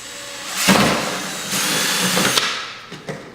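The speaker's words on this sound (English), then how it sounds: "and drill the hole" A power drill whirs loudly in two sustained bursts, biting into material, then stops with a couple of brief clunks.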